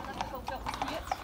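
Camargue horse hooves clip-clop at a steady walking pace on a ride in the Camargue, France, close and moderately loud, with people talking over them.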